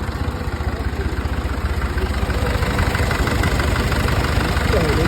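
A Tümosan 5265 tractor engine runs at a steady idle in an olive grove, a close, continuous low rumble with an even chugging pulse and no pauses.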